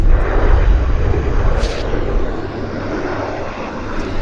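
A jet airliner at Vancouver Airport roars steadily and loudly, a broad continuous engine rush heard up close with no talk.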